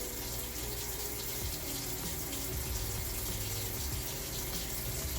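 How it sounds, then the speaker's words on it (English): Vinegar is poured onto fish being seasoned in a bowl, making a continuous, fairly loud liquid splash and hiss that stays even for about five seconds with no talk. "So I'm gonna pour some vinegar on here."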